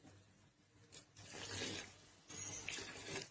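Water splashes and pours into a pan of mushroom gravy masala in two bursts, a rushing, liquid patter at close range with no talking.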